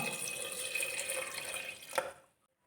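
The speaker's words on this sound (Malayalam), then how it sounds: "ഇത്രയും ചേർത്തിട്ട് പാകത്തിന് വെള്ളം ഒഴിച്ചു കൊടുക്കാം" Water pours steadily into a pressure cooker with a hollow splashing rush, ending with a small clink before going silent.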